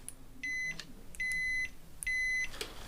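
A multimeter set to buzzer mode gives three steady high-pitched beeps, each about a third of a second long and evenly spaced, clear and close, with a faint background hum and no talking.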